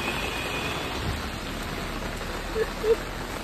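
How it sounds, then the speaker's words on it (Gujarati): Light rain patters steadily in the background, fairly quiet, with a couple of faint bumps near the end and no talking. "વરસાદ તો પડી રહ્યો છે"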